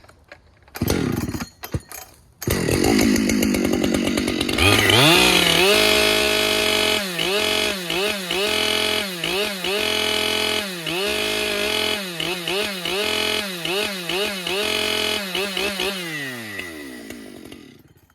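Ported Husqvarna 572 and Stihl 400c chainsaws run loud and close, engines revving up and dropping back to idle in repeated bursts over a steady idle drone, then shutting off at the end.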